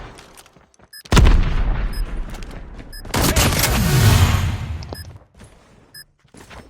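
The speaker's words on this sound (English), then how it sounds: "You hear him sniping in the back." Gunfire in a multiplayer shooter's search-and-destroy match rings out as loud, booming bursts with long decaying tails, a couple of heavy volleys separated by quieter stretches with a few faint distant shots.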